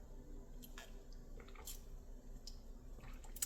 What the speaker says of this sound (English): Let me have some water here.